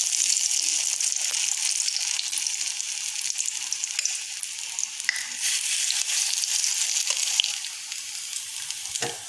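Red pumpkin flower fritters fry in hot oil in a wok over a gas flame, giving a loud, continuous close-up sizzle with faint bubbling that holds steady throughout, with no voices.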